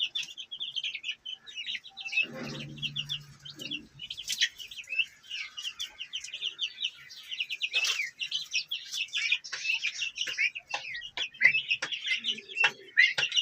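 Young peacock, turkey and golden pheasant chicks peep and chirp continuously in a dense, high-pitched chorus, with a few lower clucks from an adult bird early on, all close by and steady throughout.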